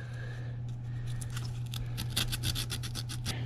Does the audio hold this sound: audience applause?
no